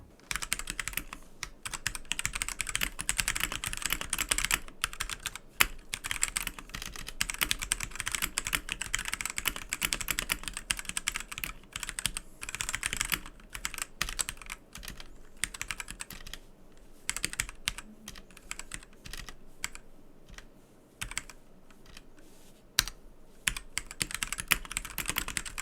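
Typing on a Redragon K673 Pro wireless gaming keyboard with thermoplastic rubber gaskets: dense, continuous rapid keystrokes with soft, muted clacks, steady and close, with no voices.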